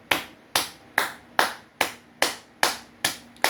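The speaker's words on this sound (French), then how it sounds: "Il faut applaudir l'Iran." Clapping in a French-language televised commentary on Iran and the IAEA, a steady run of eight sharp, evenly spaced claps, close and crisp, with no talk over them.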